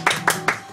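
An audience gives three sharp, evenly spaced hand claps, close and fairly loud, with no talking over them.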